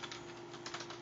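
Quick keystrokes on a computer keyboard, a short close run of light clicks against a steady hum, used while writing code.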